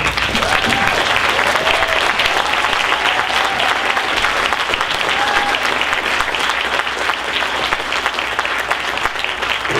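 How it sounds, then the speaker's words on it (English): Sustained applause from an audience at a senior scholarship awards night, steady dense clapping for students standing to be honoured, loud and unbroken throughout. "I'm going to ask our seniors to stand so they can have a round of applause from you."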